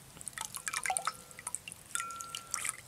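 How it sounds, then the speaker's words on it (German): A washcloth gently dipped into a basin of water sends out a quiet scatter of bright drips and small trickles, irregular and close. "jetzt nehmen wir diesen Waschlappen von oben bzw. für oben, tauchen das mal ganz zart ein"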